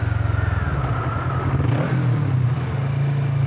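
A 2018 Kawasaki Vulcan S engine rumbles with a deep, loud booming throttle rev close by, a steady low pulsing growl that rises and holds through the whole stretch.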